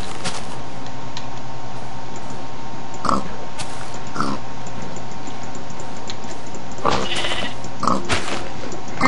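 Pig oinking in the Minecraft video game, short grunting calls popping up a few times over a steady background of game sounds, fairly faint and without talk.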